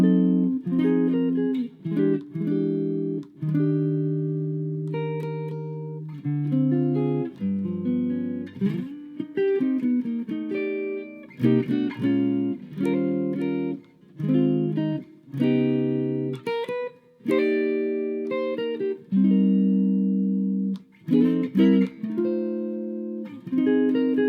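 Fender Jazzmaster electric guitar on its lead circuit, neck pickup with volume and tone on full, playing a clean jazz-style line of single notes and chords with short pauses between phrases, close and alone.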